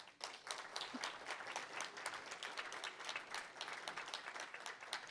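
Applause during a fiction reading at an arts center, crisp audible hand claps from an audience, steady and moderately faint throughout, with no talking.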